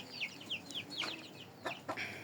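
Hens kept for egg laying cluck in short, repeated bursts over a low background hum, with several distinct calls spread across the moment and no speech.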